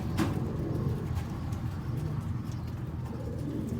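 A Rampuri Ali wala breeder pigeon pair cooing, soft low throaty coos repeating over a steady background murmur, near and moderately loud.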